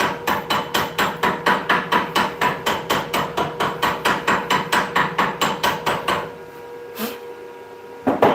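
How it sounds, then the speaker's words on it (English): A hammer taps slag off a fresh weld from 2 mm rods in a smithing shop, a fast even run of sharp metallic knocks that stops, then a lone tap and another strike. "Tap some slag off."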